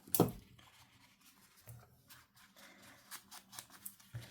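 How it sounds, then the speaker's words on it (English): Quiet close snips and soft rubbing as scissors cut through fabric, a few irregular cuts with pauses between. "let's just use my material scissors to cut that"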